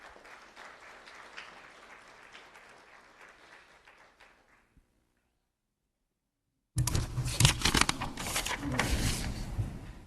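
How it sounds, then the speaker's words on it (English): Audience applause for a student award winner at a school recognition ceremony, starting after a brief quiet gap and then filling the room with loud, dense clapping; softer crowd sound precedes the pause. "Let's have a round of applause for Chance McDonald"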